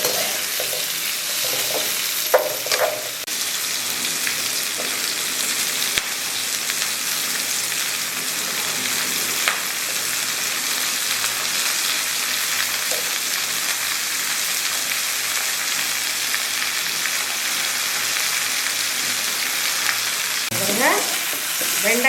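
Okra, onion and green chilies sauté in a pan, giving a steady, even hiss of frying that runs unbroken throughout, with occasional faint scrapes of stirring near the start and end, close and unaccompanied by speech.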